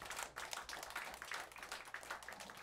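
A concert audience applauding a band after the bass player is introduced, a dense, continuous patter of many hands at fairly even loudness throughout.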